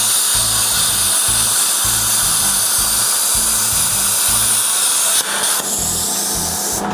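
A Predator plasma cutter, a Cut 60 model, slices steel with a loud, continuous hiss. A low pulsing hum beats steadily beneath it, and the sound shifts briefly near the end.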